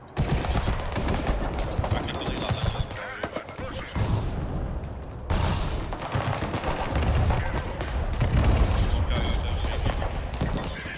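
Bombing and gunfire in the video game Broken Arrow: dense, continuous bursts of rapid gunfire and explosions, loud and busy for the whole stretch, with brief dips in between.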